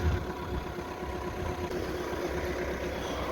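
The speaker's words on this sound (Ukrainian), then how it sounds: "Мотор працює дуже гарно, тихо, як на дизель." A 2014 SEAT Altea XL with a 1.6 diesel engine idles steadily and fairly quietly, a continuous low rumble with an even mechanical patter throughout and no voices.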